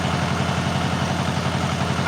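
A tractor engine idles steadily and close, a continuous low rumble with an even throbbing pulse, unchanged throughout the short stretch.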